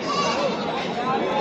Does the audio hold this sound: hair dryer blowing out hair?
no